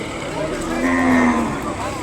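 A calf at the Sunday Kodada cattle market gives a single drawn-out moo, close and clear, over faint background market noise.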